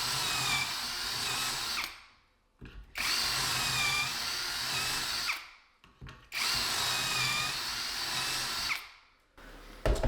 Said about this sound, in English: I drill this very steep hole